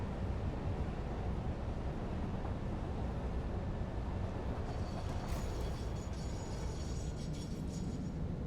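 A train in the factory-building video game Satisfactory rumbles along its track, a loud, steady, broadband roar that continues throughout, with faint metallic squeals in the second half.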